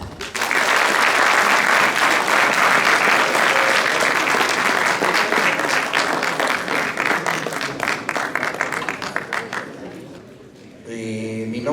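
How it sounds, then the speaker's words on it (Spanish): A conference audience at a session on plumbing pipe standards gives a loud, sustained round of applause welcoming a speaker, dense clapping that holds for about ten seconds before fading, followed by a brief voice. "Lo recibimos con un fuerte aplauso."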